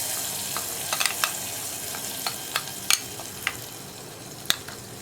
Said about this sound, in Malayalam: അപ്പോൾ ഞാൻ നമ്മുടെ വറവ് കറിയിലേക്ക് ചേർക്കുകയാണ്